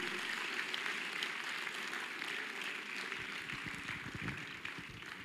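Faint, distant applause fills a large hall at a university anniversary lecture event, a steady wash of clapping with a few closer, more distinct claps toward the end.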